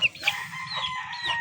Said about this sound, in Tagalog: Ayan yung sisiw natin.